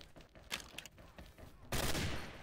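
Gold Dragon TAR rifle in the XSHOT shooter game crackles with scattered shots and distant gunfire, then a louder sustained burst near the end.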